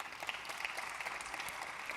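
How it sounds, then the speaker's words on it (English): Audience clapping for a presenter at an Adobe Symposium in Los Angeles, a dense, even patter of many hands sustained throughout at moderate loudness. "let's give her a round of applause"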